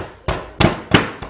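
A hammer drives a 2.5 centimetre wooden piece into a tubular pipe while a bird table is built, giving four sharp, loud, close blows spaced roughly evenly with no talk.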